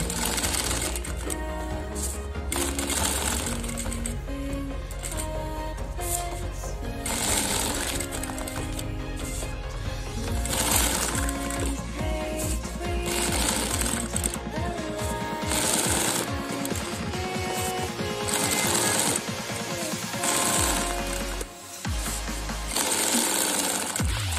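A sewing machine stitches a decorative motif in fast, continuous bursts of rapid mechanical clatter. Short pauses and speed changes mark each new section, with lock stitches at the starts.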